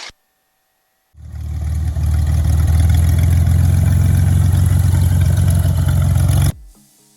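A STOL light aircraft taxis with its engine idling, a loud, steady, low droning hum that starts abruptly after a brief silence and cuts off sharply near the end.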